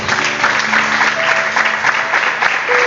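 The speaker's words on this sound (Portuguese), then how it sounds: "Eu quero uma grande salva de palmas ao Senhor" Church congregation applause, loud continuous clapping from many hands filling the whole stretch, with faint tones and voices underneath.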